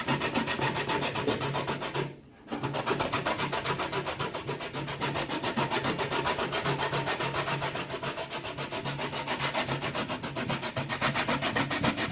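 Breadfruit being grated by hand for Jamaican dumplings, a steady close scraping and rubbing that runs continuously with one brief pause near the start.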